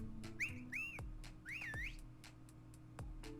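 Whistling from the video game Detective Pikachu: several rising-and-falling whistle tones in quick succession over a low game background hum and occasional clicks.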